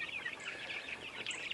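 Backyard chickens cluck and chirp softly from a homemade coop or chicken tractor, a short cluster of faint, scattered calls over quiet outdoor background with no talking.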